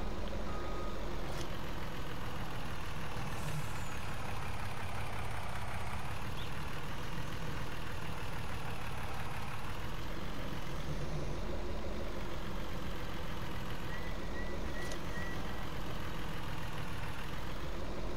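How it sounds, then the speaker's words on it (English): A 640-horsepower road train truck in Farming Simulator 19 rumbles with a steady, heavy low engine drone near idle, joined by a few faint high beeps and clanks over a constant dense background. "And we have a road train."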